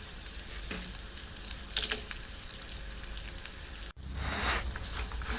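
Curry leaves and dry red chillies frying in oil for puliyogare, a dense close crackling sizzle with brief spattering pops, dropping out for an instant before a louder burst of sizzle resumes, without speech.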